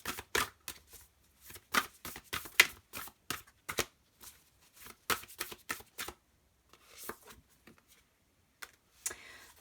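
Tarot cards being shuffled and handled to draw a single guidance card, a run of crisp close-up riffles and slaps in uneven bursts with short pauses, no voices.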